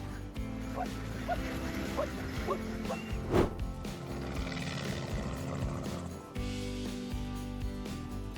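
Helicopter flying over the cracked savanna of Namibia with a 1.2-ton black rhino slung upside down beneath it: a steady rotor drone throughout, with occasional dog-like yips and barks rising above it.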